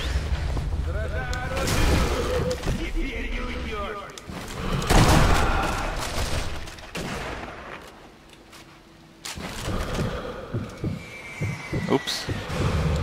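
Grenade blasts in the World War II sniper game Sniper Elite V2, a series of heavy booming explosions with chaotic gunfire and game noise in between, loud and close, while players shout and talk over the action.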